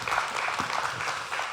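A church congregation claps together during a Sunday worship service, a short burst of even applause at moderate volume with no voices.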